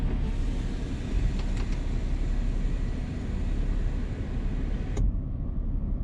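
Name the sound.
Mercedes-Benz C300 W204 sunroof mechanism opening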